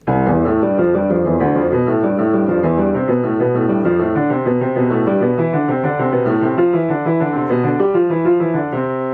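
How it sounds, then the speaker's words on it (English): Piano plays a steady flowing Hanon exercise passage, the low bass notes sounding strong and full while the higher melody stays gentle and softer above it. "Another thing I could do is I could play the left hand forte and the right hand piano."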